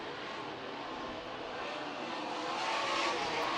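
360 sprint race cars lapping a dirt oval at East Bay, a continuous broad engine roar from the pack that swells slightly louder toward the end, heard from a distance with no speech.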